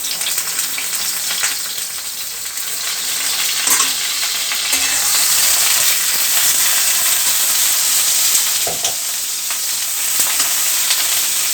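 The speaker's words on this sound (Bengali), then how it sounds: "দেখো আমি বেগুনগুলো ছেড়ে দিলাম, তেল আমার গরম হয়ে গেছে।" Slices of eggplant fry in hot oil for a hilsa fish curry, a loud, close, continuous sizzle with occasional crackles and stirring clatters, and no talking.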